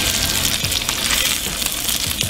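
A thick steak being reverse seared in a hot pan gives a loud, continuous, crackling sizzle, close and unbroken throughout.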